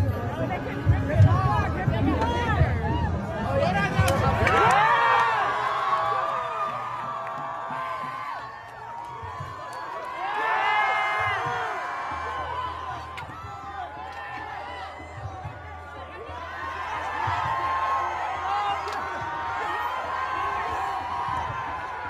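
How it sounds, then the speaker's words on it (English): Crowd cheering and chanting at a New York street protest where American flags were replaced with Palestinian flags, a loud broad roar of voices that swells in repeated waves over steady crowd hubbub. "We got the crowd cheering."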